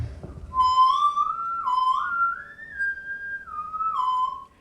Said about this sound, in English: This is him whistling into a microphone.